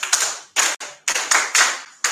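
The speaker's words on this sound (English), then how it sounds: "When clapping for your elders, clap like this." Children at a public-speaking academy clap their hands together in a crisp, rhythmic pattern, with about five loud, sharp bursts of claps separated by brief pauses.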